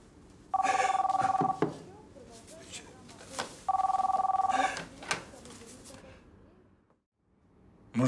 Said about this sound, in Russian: Может, это Баринов звонит?